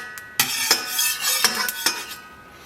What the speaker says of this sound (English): since this is a nice metal pan, I can use a metal spatula